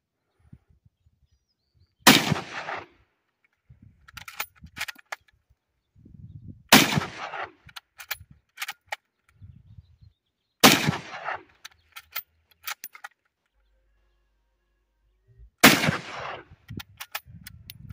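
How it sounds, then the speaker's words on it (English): Four loud rifle shots from a Japanese Type 38 Arisaka ring out at an outdoor canyon range, spaced about four seconds apart, each followed by a rolling echo and scattered faint clicks and handling noise. "This is a Japanese Type 38 Osakura, and this is what it sounds like."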